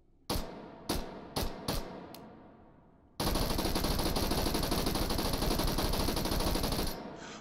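A submachine gun or carbine fired on a range, with four sharp, separated single shots followed by a long, loud, sustained burst of fire.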